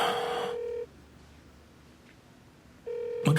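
A phone ringback tone sounds twice with a long silent gap between, steady and electronic, and the call goes unanswered.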